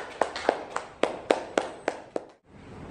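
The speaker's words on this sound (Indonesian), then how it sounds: "beri tepuk tangan untuk kelompok 1." A few people clap in a classroom for a presenting student group, eight sharp separate claps at an uneven pace, then quiet.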